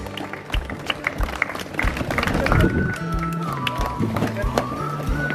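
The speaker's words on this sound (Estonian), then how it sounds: "Aplaus!" Spectators applaud the winners at a forest running race, the Jõulumäe 34th forest run, with a spread of scattered claps while people talk over the clapping.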